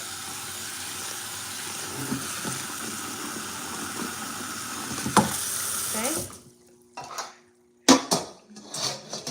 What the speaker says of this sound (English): will rinse the noodles in cold water as to stop the cooking process.